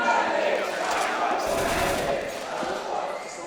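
Crowd noise at a live CS:GO esports semifinal between Na'Vi and FlipSid3 at SLTV StarSeries, a steady broadband roar of a large audience swelling slightly in the middle and lasting throughout.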